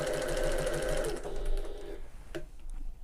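A sewing machine back stitches fabric in a rapid, steady mechanical whir that runs for about two seconds, then stops, followed by a brief click and quiet handling sounds.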